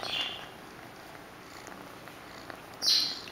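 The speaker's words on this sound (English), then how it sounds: "What's better than kitten purring?" A kitten purrs softly and steadily, close to the listener, as a low continuous rumble with faint breathy swells, alone without talk.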